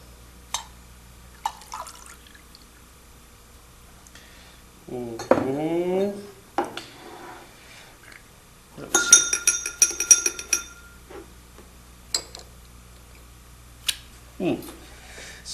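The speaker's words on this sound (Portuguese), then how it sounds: "Derramar num copo limpo e encher com água até a boca." A clean drinking glass is filled with water during a chemistry lesson on precipitation, with bright clinks of glass and cutlery, a run of pouring and trickling, and scattered taps, all under a speaking voice.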